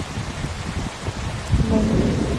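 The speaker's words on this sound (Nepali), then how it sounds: "उही कडा बिजुली हाल्यो" Thunder rumbles through a lightning storm with steady rain, low booming surges swelling louder in the second half over a constant wash of falling drops.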